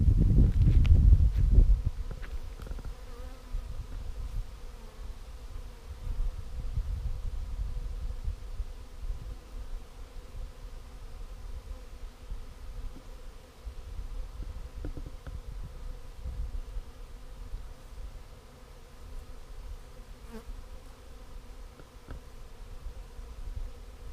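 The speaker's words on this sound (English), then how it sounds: "It looks like the main swarm is kind of diminishing, or the cloud rather." A large honeybee swarm drones in a steady, faint buzz from some distance, a low continuous hum that holds for the whole stretch, with a brief louder rustle at the very start.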